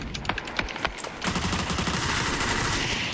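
Gunfire in the battle royale game PUBG on the snowy Vikendi map: a few sharp separate shots early, then a dense, sustained burst of rapid automatic fire filling the rest, loud and continuous.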